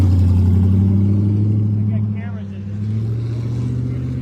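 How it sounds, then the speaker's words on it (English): A car engine idles and moves off to the side, a loud, close, droning hum with strong low harmonics that dips briefly and then steadies, with faint speech-like sounds mixed in. "we'll pull that car over here off to the side"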